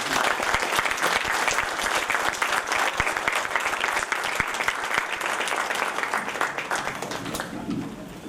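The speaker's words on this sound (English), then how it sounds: "give one big applause to all the poets" An audience at an international poetry festival gives the poets sustained, dense applause that stays full and steady for several seconds, then thins slightly toward the end.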